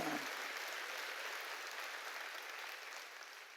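Church congregation applauding during a sermon, a steady even wash of clapping that holds throughout and tapers slightly toward the end.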